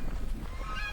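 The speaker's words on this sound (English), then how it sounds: "Now the goose is laughing at me." A goose honks nearby in a home market garden, a short harsh call that stands out clearly with no talking.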